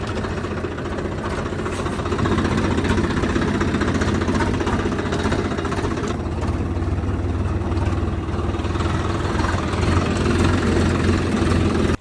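A tractor engine idles on a village farm, giving a steady low throbbing drone close by that holds constant the whole time, with no voices over it.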